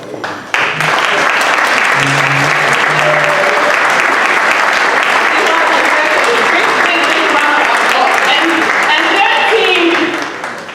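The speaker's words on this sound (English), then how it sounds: "let's all give them a big round of applause" A fundraiser crowd gives a big round of applause to the executive, sustained loud clapping from many people with voices and cheers mixed in, rising abruptly and fading near the end.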